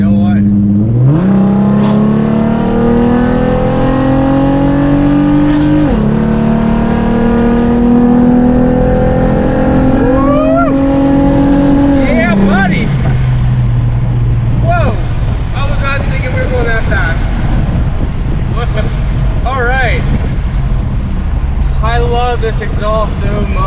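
Exhaust of a Ford Mustang S197 with a 4.0 V6 and big cams, revving loud and close as the engine climbs in steps, holds, then drops back to a lumpy idle with crackles.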